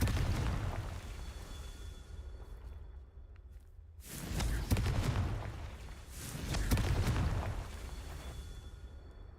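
Blasts of the Confringo fire spell in a Harry Potter video game, two loud booming bursts with rumbling, crackling tails after a brief lull, no voices.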